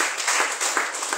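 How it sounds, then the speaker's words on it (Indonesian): A church congregation at a Sunday service breaks into dense, steady applause, a full wash of clapping that fills the short moment without a break. "Berikan tepuk tangan bagi kita."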